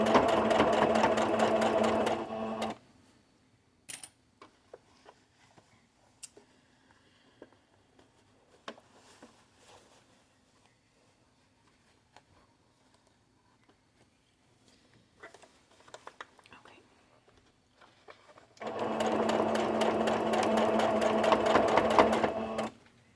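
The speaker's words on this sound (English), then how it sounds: "we're going to start sewing it" A sewing machine stitching a fabric sunglasses case, two loud, fast, even bursts of stitching near the start and the end, with quiet handling clicks and taps between them.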